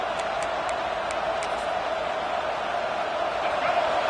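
A dense, steady roar from a college football stadium crowd at an Arkansas game swells continuously without a break, loud and enveloping, with faint play-by-play commentary beneath it.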